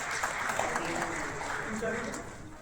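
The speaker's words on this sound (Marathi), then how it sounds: "जोरामध्ये टाळ्या वाजवा" At a community felicitation gathering, an audience claps in a dense, sustained burst of applause while a voice talks over it.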